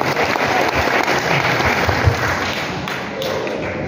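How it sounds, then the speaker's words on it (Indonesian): Applause from a church congregation at an Easter service of the Cirebon Regency church council, a dense, steady wash of clapping filling the whole stretch and easing slightly toward the end. "Berikan tepuk tangan dulu."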